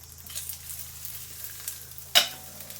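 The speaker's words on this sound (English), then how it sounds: "that butter's still sizzling away nicely" Butter sizzles and crackles softly in a pan on the stove while crumpets cook, a low steady fry with one sharp clatter near the end.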